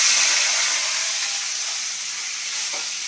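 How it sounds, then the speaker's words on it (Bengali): A bay leaf with panch phoron fries in hot oil in a kadai, making a loud, steady, hissing sizzle that eases slightly over a few seconds. "তেজপাতাটা ভেজে নিই।"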